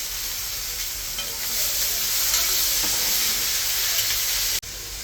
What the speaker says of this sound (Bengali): আমার শাকটা দিয়ে দিলাম